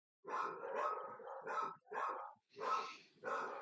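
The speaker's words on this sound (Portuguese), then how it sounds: "Tem um cachorro latindo aqui," A dog barks nearby in a quick series of about six loud, separate barks with short pauses between them.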